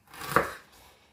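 A single quick knife stroke chops through mango and ginger on a cutting board, one soft, short thud heard alone at low volume.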